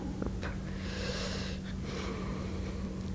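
Deep, slow breaths are drawn in and let out during a beginner yoga pose, two or three long airy inhales and exhales close to the mic over a steady low hum, with no talking.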